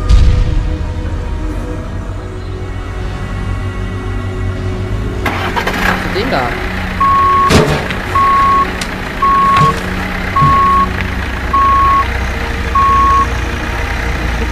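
A truck in the Selma and the Wisp video game starts its engine with a loud rumble. Evenly spaced reversing beeps then repeat over the running engine, and a voice speaks briefly.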